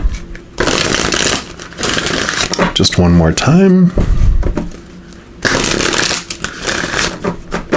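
A deck of oracle cards is shuffled several times in quick riffling bursts, with a person speaking briefly between the shuffles.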